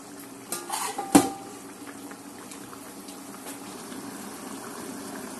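Roasted masala is stirred into chicken in a pressure cooker, with a few metallic clanks of the spoon against the pot near the start. A soft, steady bubbling and simmer hum continues underneath.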